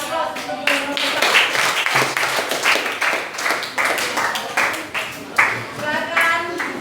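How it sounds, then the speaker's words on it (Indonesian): A classroom group gives applause for the fourth group after their presentation in a civics teacher-training session, a steady round of clapping from many hands under light murmuring that swells and fades over several seconds. "Jadi aplaus untuk kelompok 4."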